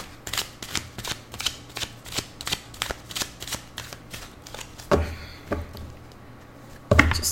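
A deck of tarot cards is shuffled by hand in a rapid series of crisp riffling snaps, about a dozen evenly spaced bursts, then a few slower taps and a final louder knock of the deck, close up with no talk.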